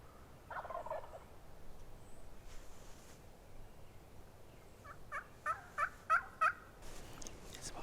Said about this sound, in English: I heard my first gobble this morning